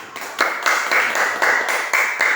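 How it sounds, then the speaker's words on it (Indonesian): A small classroom group claps for a student, a loud, close burst of hand claps falling into a rough rhythmic pattern for a couple of seconds, with no talking. "tepuk tangan untuk Nukman."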